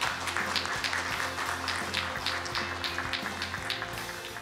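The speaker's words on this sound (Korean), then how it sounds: "여러분 박수로 맞아주시기 바랍니다." A conference audience at a public broadcasting assembly in Seoul applauds to welcome a speaker, dense close clapping with a faintly rhythmic pulse throughout.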